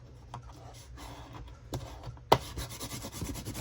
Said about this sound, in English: see if I can correct it with my bone folder